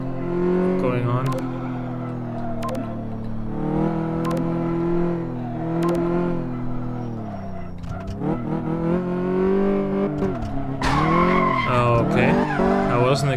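A car skids through a sharp handbrake turn in Car Mechanic Simulator 2015, tires squealing in long sliding whines over a droning engine that revs and falls, with someone talking throughout.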